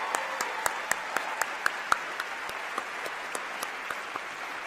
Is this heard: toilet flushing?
no